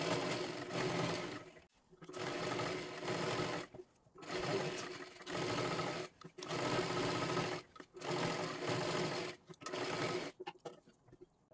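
A sewing machine stitches the back panel of a blouse in repeated loud bursts of rapid whirring, each lasting about two seconds and separated by short pauses.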